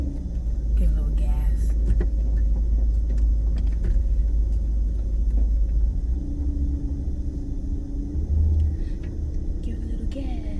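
A car's engine drones steadily through a driving lesson, a loud continuous low rumble of the vehicle on the road with brief pitch changes, while people talk inside the car.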